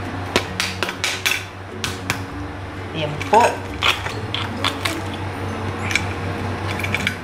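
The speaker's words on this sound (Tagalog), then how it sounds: "The cracking sound of our crispy pata." Crispy air-fried pork knuckle (crispy pata) is cut and crunched, giving a series of sharp cracking snaps at close range, irregular in rhythm, while a person talks briefly over it.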